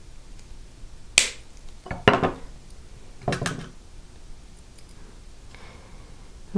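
Cutters trimming riveting wire for a riveted bracelet, three or four sharp metallic snips spread apart in a quiet room, with a faint click at the very end.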